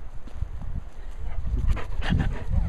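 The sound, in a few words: dog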